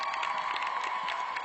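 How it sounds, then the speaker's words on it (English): Comic Con panel audience for Once Upon a Time clapping and cheering together, a brief, busy wash of hands and voices heard from a distance in a large hall. "a round of applause"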